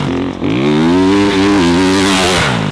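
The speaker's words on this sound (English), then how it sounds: "If you're letting the bike rev out too hard," Dirt bike engine revving hard and high, a loud, steady whine whose pitch climbs and wavers, with a brief dip and quick re-rev near the start, close up and alone.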